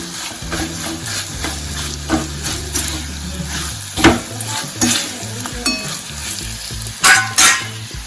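Salt and sugar being mixed into a sizzling pan for a chhaas (buttermilk) vegetable dish made with leftover rotis, with steady frying hiss and a few louder scraping stirs, alone and without talk.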